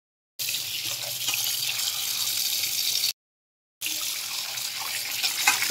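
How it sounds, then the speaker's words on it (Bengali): Cut bata fish rinsed under a running tap, a loud steady gush of water that stops briefly for under a second and then resumes, with no talking. "মাছ ধুয়ে পরিষ্কার করে নিয়েছি।"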